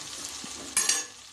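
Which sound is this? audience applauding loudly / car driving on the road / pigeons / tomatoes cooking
tomatoes cooking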